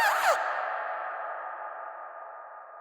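A short synthesized singing voice phrase cuts off after a moment, leaving a long, heavy reverb tail that rings on and slowly fades across the remaining seconds, with nothing else heard.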